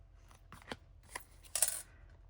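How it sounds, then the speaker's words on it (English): Paper snips trimming around the edge of a paper gingerbread-house treat box, giving a few short, close crisp cuts and snips over quiet background. "And then I'm going to take my paper snips. And I'm just going to trim around this edge right here."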